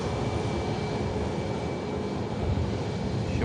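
An EasyJet airliner taxis while repositioning, giving off a steady broad engine roar with a faint high whine running through it. The sound stays continuous and fairly close throughout, with no voices.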